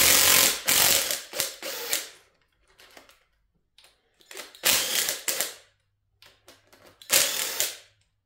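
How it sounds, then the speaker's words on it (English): A small impact wrench loosens rocker arm bolts on a C5 Corvette LS6 engine during teardown, firing in three loud rattling bursts separated by quieter clicks and handling noises. "probably go through with the small impact. And take them the rest of the way out"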